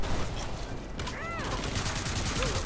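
Gunfire in the Killing Floor 2 video game, a dense continuous fusillade of rapid shots running the whole time under game noise, with faint voices mixed in.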